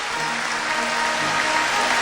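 Spring 2012 commencement crowd applauding in a large university arena as graduates walk to their seats, a dense, steady wash of clapping with faint music underneath.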